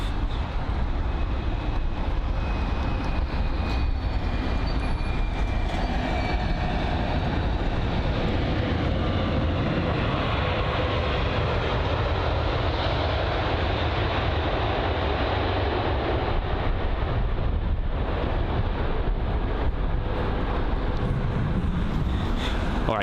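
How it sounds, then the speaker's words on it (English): A British Airways Boeing 787-8 Dreamliner arriving from Nashville touches down at Heathrow, a broad rumbling roar that swells and lingers at a moderate distance, with no talk over it. "so that was a 787-8 Dreamliner from Nashville"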